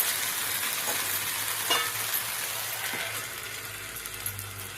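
Coconut dosa cooks in ghee on a covered pan, giving a steady soft sizzle and hiss close by, with a few faint clinks and no voices.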